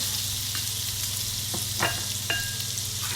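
Butter melting and sizzling in a pan on a stove over medium heat, a steady close hiss with a few soft clinks and scrapes from a utensil.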